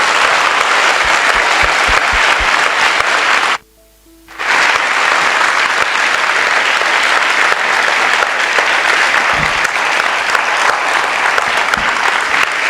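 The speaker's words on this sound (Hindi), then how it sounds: "क्या हम सब मिलके प्रभु यीशु के लिए एक जोरदार ताली बजा सकते हैं?" A church audience in a Hindi-language service bursts into loud, sustained applause for Jesus, dense clapping filling the whole stretch apart from a brief near-silent gap early on.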